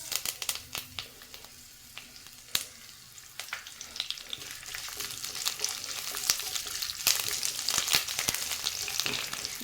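Mustard seeds and curry leaves fry in hot coconut oil in a pan for a fish dish, starting with scattered sharp pops and crackles, then swelling into a louder, busier spluttering sizzle, close up with no speech.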